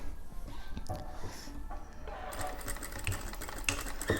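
A household sewing machine stitches the hem of a single bedspread, a fast whirring run of needle strokes that starts partway in and keeps going, close and moderately loud.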